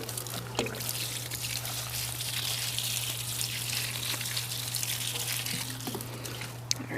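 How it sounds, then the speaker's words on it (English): Water pours steadily onto a yarrow plant, a continuous close splashing trickle lasting throughout, with a low steady hum underneath. "I'm gonna give my yarrow some water"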